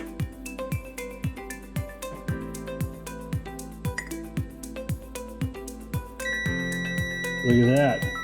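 A continuity tester, probed across a thermostat switch in a cup of hot water, begins a steady high beep once the switch closes. Before that comes a regular ticking pulse, and a voice sounds briefly near the end.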